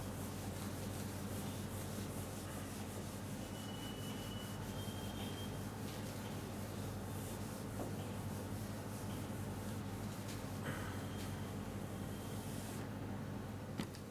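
Writing rubbed off a classroom board during a class 12 maths lesson, heard as a steady faint scrubbing, even and continuous throughout with no speech.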